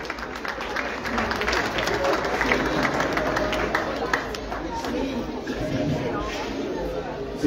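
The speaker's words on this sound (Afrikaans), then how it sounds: "kom ons gee vir al twee hierdie wenners weer eens een groot hande klap." At an agricultural show championship, the crowd applauds the winners, a continuous mix of clapping and murmuring chatter from many people, with background hubbub persisting throughout.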